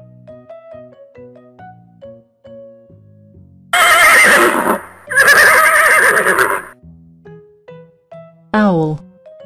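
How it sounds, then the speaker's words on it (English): A horse in a children's animal cartoon gives two loud, long whinnying neighs in a row, followed later by a short squeal, over a soft tinkling music background. "Horse."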